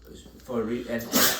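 A single short sneeze, close and abrupt, with a throaty voiced lead-in and a sharp breathy burst at the end.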